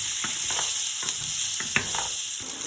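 Onion, garlic, red pepper and carrot sizzle steadily in a hot pan, a continuous bright frying hiss broken by occasional soft stirring clicks and scrapes, close and fairly loud with no talking.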